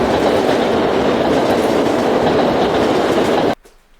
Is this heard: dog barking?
no